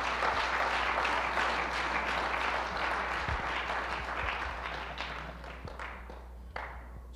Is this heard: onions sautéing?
no